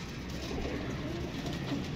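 Soft pigeon cooing over a steady background hum, continuous low warbling calls from several caged birds nearby.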